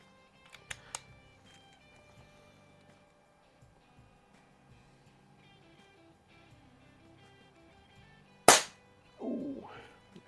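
A Crosman Silhouette 1701P air pistol fires a single pellet: one sharp, loud crack after a long stretch of quiet background, followed shortly by a brief vocal exclamation.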